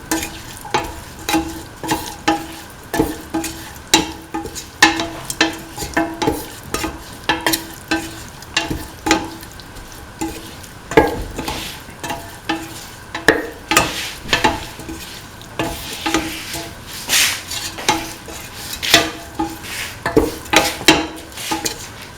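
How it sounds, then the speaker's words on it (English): Beef with salt and other ingredients is stirred in a frying pan, a spoon scraping and clacking in a steady rhythm over a soft sizzle, close and alone with no voices. "Mix in the salt with the beef and the rest of the ingredients."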